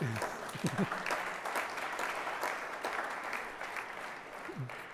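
Audience applause at an award dinner, a dense, steady wash of clapping from a crowd lasting throughout, with a few brief voice fragments over it near the start and end.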